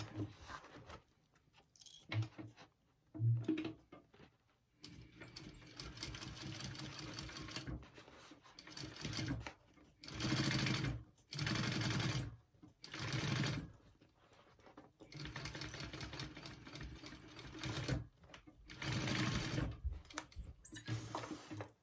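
A sewing machine stitching a seam on a tote bag, running close and steady in bursts that stop and restart, with short quiet gaps between runs.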